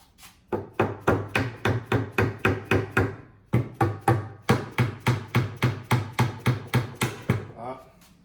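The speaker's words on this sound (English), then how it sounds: "hammer, the demo hammer." A demolition hammer strikes an outdoor patio chair over and over, about two dozen sharp, loud, evenly spaced blows in two runs with a short break between them.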